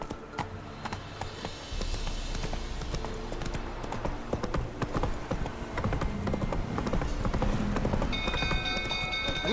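A horse's hooves clip-clop at a steady walking rhythm in the video game The Witcher 3, moderately loud and continuous across about ten seconds, with game ambience underneath.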